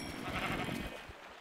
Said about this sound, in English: Here's a whole pack of sheep.